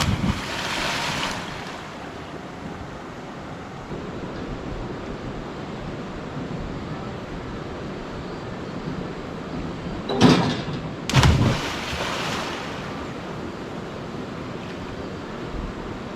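Water rushing steadily at a swimming spot among rock formations in a former mine, a broad constant roar with wind buffeting the microphone and a couple of brief thumps near the end.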